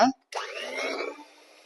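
Butter, egg and salt are beaten together for bakery-style salt biscuit dough with a steady, whirring motor drone. The whirring starts abruptly after a brief voice and a short silence, holds for over a second, then fades.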